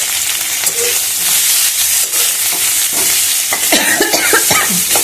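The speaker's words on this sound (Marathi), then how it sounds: "लाल तिखट टाकायचं तुम्हीला तुम्हाला जेवढं लाल तिखट तुम्ही खाता तुम्ही आता हे बटाटे टाकून द्यायचे" Potatoes fry with red chili powder in a pan, giving a steady close sizzle and hiss broken by repeated scraping stirs, with no talking.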